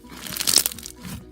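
Crunchy foam slime is squished once by hand, giving a quick close crackling crunch that lasts well under a second, with no voice over it.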